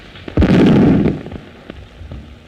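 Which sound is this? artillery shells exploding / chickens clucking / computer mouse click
artillery shells exploding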